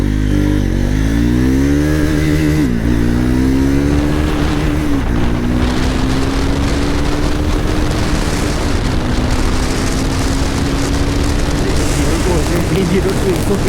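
A Bajaj Triumph Scrambler 400X motorcycle accelerates hard from a standstill, its engine note climbing steadily with a couple of quick gear shifts, loud and close throughout.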